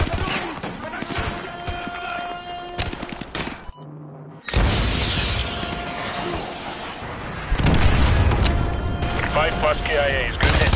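AGM missile strikes from the Modern Warfare 2 video game: loud booming blasts and crackling gunfire, a sudden near-silent gap, then heavier rumbling impacts, with radio chatter in the mix.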